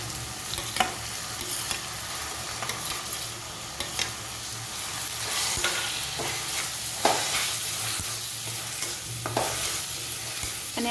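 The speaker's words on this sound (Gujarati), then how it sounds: "હવે તેની અંદર આપણે શિમલા મરચું અને લીલું મરચું નાખી દઈશું" Capsicum, green chili and tomato frying with onion for Bombay-style masala pav, a constant close sizzle with repeated spatula stirring and scraping throughout, no talking.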